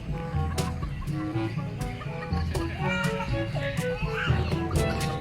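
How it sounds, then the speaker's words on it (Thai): Chickens cluck and squawk near and loud while children shout and play around them on a family outing at Wang Nam Khiao, the clucking running steadily under the excited voices. "เอ้ยดูไก่ล็อกต๊อกต๊อกต๊อกต๊อกต๊อกต๊อกอ่ะ"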